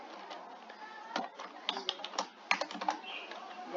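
Keys tapped on a computer keyboard while entering a captcha, a run of irregular light clicks close to the microphone over faint background hiss.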